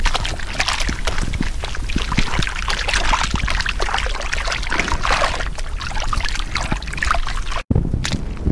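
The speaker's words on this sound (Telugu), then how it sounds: "నీటి లోపల ఆవు పెండ కలుపుకుందాం" Cow dung being stirred into water in an azolla pit, giving a steady wet sloshing and trickling close by with no pauses, cut by one short break near the end.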